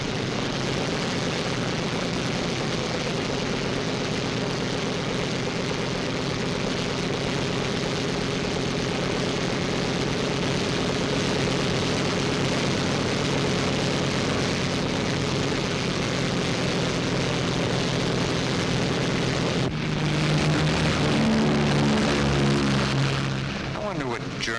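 Several propeller-driven Flying Fortress bombers roar as they depart, a steady, loud, dense engine drone filling the whole stretch and swelling slightly near the end.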